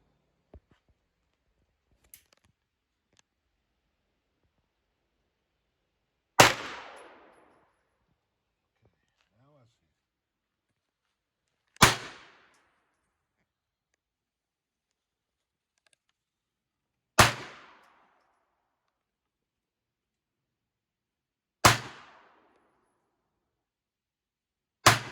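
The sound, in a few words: Hi Point 9mm pistol shots fired at targets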